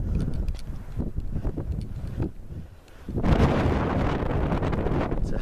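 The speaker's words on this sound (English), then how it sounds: "Wind's picking up now." Wind buffets the microphone on an exposed mountain walk up Helvellyn near Striding Edge, with gusty rumbling that eases briefly and then strengthens into a steady, louder roar.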